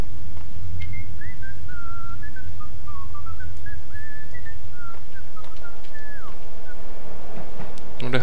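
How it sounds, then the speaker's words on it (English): A single person whistles a wandering, unhurried melody in the Max Payne video game, thin and fairly distant over a steady low rumble of background ambience. "Who the hell's whistling?"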